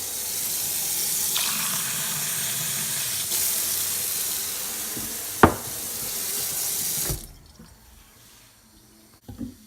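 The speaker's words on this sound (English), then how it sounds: "then you get the cold water on" Cold water running hard from a kitchen tap while making Kool-Aid: a loud, steady splashing hiss close by for about seven seconds, then cut off abruptly, followed by near silence and a couple of faint clunks.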